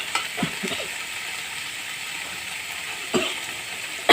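Spice paste sizzles steadily in hot oil for prawn malai curry, a continuous close hiss broken by a few soft stirring clicks.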